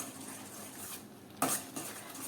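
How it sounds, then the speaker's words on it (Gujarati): A utensil stirs lemon juice into tomato chutney in a pot with soft scraping, then a sharp metal clink against the rim followed by a lighter tap. "લીંબુના રસને આપણે સારી રીતે મિક્સ કરી લઈએ"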